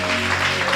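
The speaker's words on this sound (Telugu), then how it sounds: "ఒకసారి చప్పట్లు కొట్టండి." Brief burst of congregation applause in a church, dense clapping over a steady background hum.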